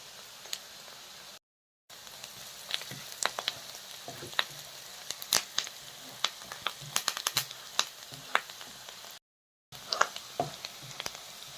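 Onions frying in oil with curry leaves and turmeric, a soft continuous sizzle dotted with frequent sharp crackles and pops, with two brief gaps of silence.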